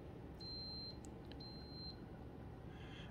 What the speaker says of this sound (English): Okay, so there's those beeps.